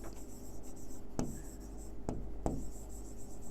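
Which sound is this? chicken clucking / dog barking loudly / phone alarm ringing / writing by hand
writing by hand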